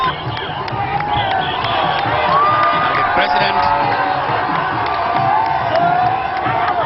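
A dense crowd cheers, whoops and yells continuously around the president's halted official vehicle as he arrives to file his 2011 nomination papers in the Gambia. Someone speaks over the steady roar.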